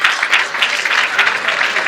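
Steady audience applause rings out at a Kinyarwanda comedy performance, dense and fairly close, clapping sustained evenly through the whole moment with no voices over it.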